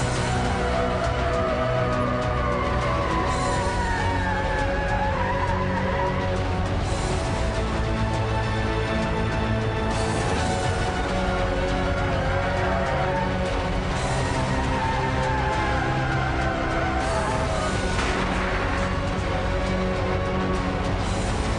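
A 5-ton mega truck runs at high speed, near 100 miles an hour, as a continuous loud roar of engine and rushing wind, with the engine tone rising and falling through several gear changes.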